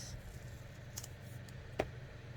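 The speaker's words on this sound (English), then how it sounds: "So I'll get some scissors and cut." Scissors cut paper for a cross stitch journal page: two faint, brief snips, spaced under a second apart, over a quiet room hum.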